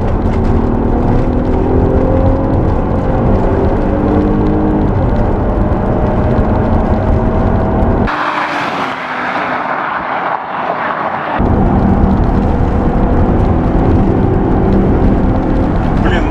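An Infiniti FX35 accelerating at full throttle on a road test drive, its loud engine roar climbing steadily in pitch through the gears, with a brief dip around a gear change before the strong drone resumes.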